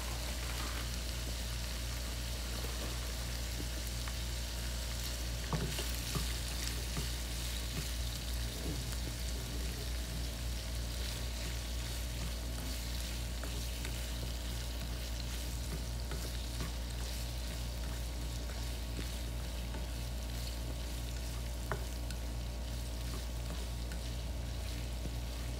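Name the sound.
water boiling in a pot with soup pasta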